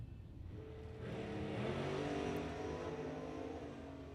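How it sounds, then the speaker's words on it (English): A supercharged blower drag race car at a Super Pro bracket drag racing event revs hard, its engine roar swelling after a second and holding loud and steady at a distance. "over here with the loud blower car"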